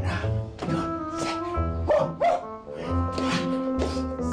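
A man imitates a dog with his voice, letting out a run of loud, close barks and yelps in quick bursts, while music plays along beneath them.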